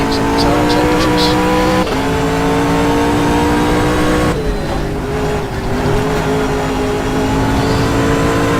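A GT race car in the GTR24h racing game drives through a curved section, its engine revving up and down with shifts and brief tire squeal, loud and close throughout.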